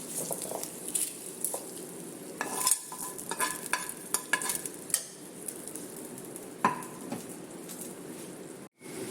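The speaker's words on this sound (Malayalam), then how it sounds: "നമുക്ക് ചേർത്ത് കൊടുക്കാം നന്നായിട്ട് മിക്സ് ചെയ്യാം" Papaya thoran being stirred in a pan, a close scraping and rustling of a spoon through the vegetables over a light sizzle, with irregular knocks against the pan.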